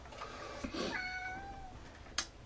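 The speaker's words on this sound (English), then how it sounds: "If you can hear my cat in the background" A cat gives one drawn-out meow, fairly faint and off-mic in a quiet room, followed by a short soft chirp.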